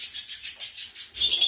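Lovebirds in a breeding bird room with Ino, Lutino and split birds give a rapid run of shrill chirps and twitters, close and fairly loud, with no talk.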